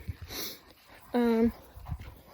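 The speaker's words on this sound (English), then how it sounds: "Here's the doggy. She's coming." A dog whimpers and pants in a short high yelp-like whine with soft breathing around it, close by, with a person's voice nearby in a home setting where laying hens are kept.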